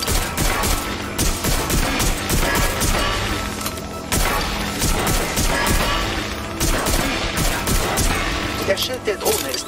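Dense, loud combat in Watch Dogs: Legion, with thrown hand grenades exploding amid sustained gunfire and crashes, one heavy blast after another with no let-up.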